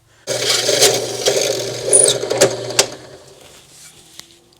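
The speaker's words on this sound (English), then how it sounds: "we'll change it out for a 1/4 inch bit, and we're going to drill out only this piece" A 1/4 inch bit drills through plexiglass with a close, steady grinding whir lasting a few seconds, marked by a few sharp cracks before it winds down.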